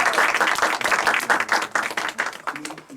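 A lecture audience gives a warm round of clapping to welcome a visiting professor at a university special lecture, a dense, lively burst of many hands that swells and fades in waves over three seconds.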